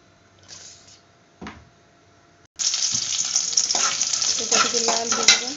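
After a couple of soft kitchen knocks, garlic and dried chilies hit hot oil in a kadhai and sizzle loudly and steadily, with occasional stirring.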